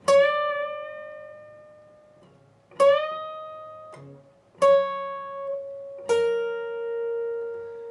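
Clean electric guitar slowly plays the opening of a solo: four separate picked notes, each ringing out and decaying, with bends and hammer-ons between them, alone and close.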